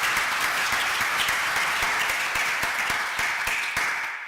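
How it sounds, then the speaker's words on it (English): Conference audience applauds in gratitude, a dense, steady wash of many hands clapping close by, sustained without pause and tapering slightly at the end. "do another round of gratitude applause for all those who took the time to submit a paper"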